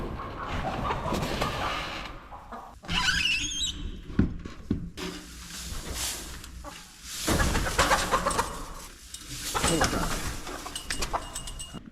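Chickens cluck and squawk in a coop during cleaning and bedding changes, several birds heard at close range amid rattling, thumping equipment and a person talking.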